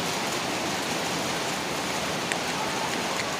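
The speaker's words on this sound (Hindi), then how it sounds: "देखो कितनी तेज़ बारिश आई है।" Heavy unseasonal rain pours steadily in Kota, a dense, constant hiss of downpour filling the whole stretch without a break and with no voices.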